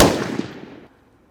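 A rifle volley for a Memorial Day ceremony salute cracks out once, loud and sharp, then rings and fades outdoors over about a second.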